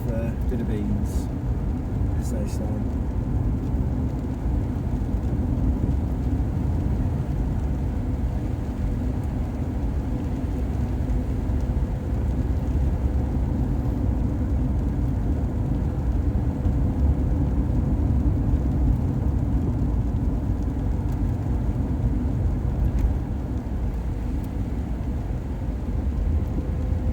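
Steady, close engine rumble from a Saab 900i accelerating along a road, a continuous low drone heard from inside the car.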